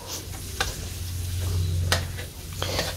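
Garlic and onion sauté in melted butter in a pan for shrimp, a steady soft sizzle with a low hum beneath and a few sharp clicks of stirring, close and alone.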